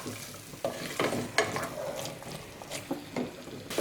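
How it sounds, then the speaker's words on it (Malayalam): Soaked raw chickpeas stirred into sizzling masala in a pan for a white chana masala curry, heard as a spoon scraping and clattering against the pan in irregular strokes over a steady frying sizzle, close up and without speech. "നന്നായിട്ട് ഇതൊന്ന് മിക്സ് ചെയ്തെടുക്കാം."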